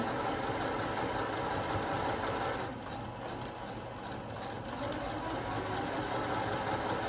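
A home sewing machine runs steadily as fabric is fed along a seam guide while piecing a quilt block, a continuous close mechanical whir with a slight dip in the middle of the run.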